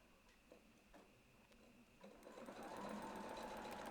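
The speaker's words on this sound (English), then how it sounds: "we're going to stitch around the ruler to the edge" A sewing machine stitching quilt fabric around a ruler on a six-inch spiral block, a few soft needle ticks building into a faster, louder close mechanical whir.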